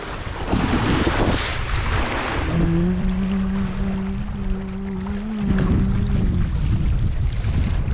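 Strong wind buffets the microphone with a continuous rushing roar beside a reservoir while fishing, a low humming engine tone running through the middle.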